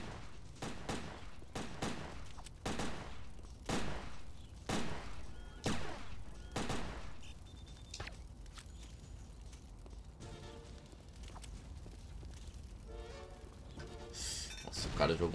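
A grenade explosion and gunfire in the Sega Dreamcast video game Headhunter, heard as a run of loud, sharp gunshots in a rhythmic burst followed by quieter rattling and noisy action sounds, with no talk over it.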